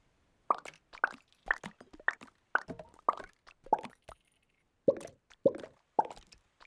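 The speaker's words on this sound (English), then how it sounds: "Some of those effects sound like coins spinning before falling down." A series of about ten quick, bright plinking blips from the game Townscaper sounds in an irregular rhythm, each a short metallic ping with a brief rattle, clear and close.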